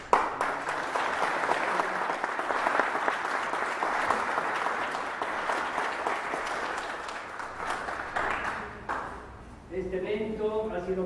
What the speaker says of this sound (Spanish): Denos un aplauso.